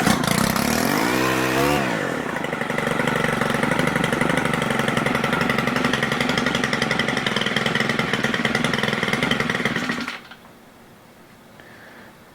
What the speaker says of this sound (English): let's see if it will start and then rev up